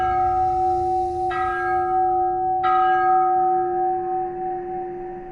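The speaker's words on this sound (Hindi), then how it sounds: "एक घंटी बजती है।" A bell rings out with a sustained tone, then is struck twice more, each strike leaving a long, fading resonance.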